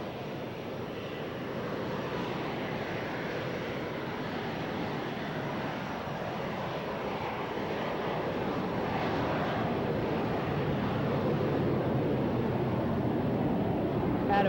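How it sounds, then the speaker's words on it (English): An aerobatic training airplane taking off at an airshow at Grissom AFB, heard as a steady, broad engine roar that builds gradually in loudness over the stretch, mixed with wind and open-air background. "the lead aircraft will pull back the stick and rotate, and about 90 knots he'll lift off the ground"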